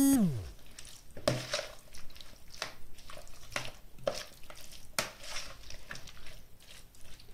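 Squid salad with chopped garlic being mixed in a bowl, giving a series of soft wet squishes and light utensil clicks at an uneven rhythm, close and fairly quiet with no talking.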